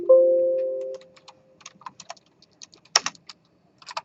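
Keys clatter on a computer keyboard as text commands are typed, a scattered run of light clicks and taps after a brief tone at the start, close and fairly quiet with no speech.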